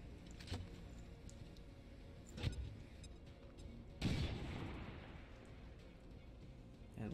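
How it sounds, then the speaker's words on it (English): A frag grenade goes off in XCOM 2 with a sharp, loud burst that trails into a rumbling decay, after a couple of brief pops earlier. "We're gonna frag this guy."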